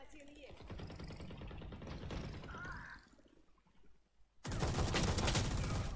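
Valorant gunfire rattles in rapid automatic bursts, drops off briefly, then returns louder, with a voice talking underneath.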